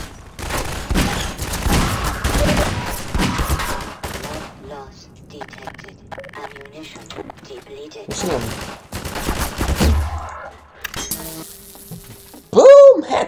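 Rapid gunfire rattles in a first-person shooter video game, a dense burst of shots followed by quieter gaps and another volley, with a sharp tonal effect near the end.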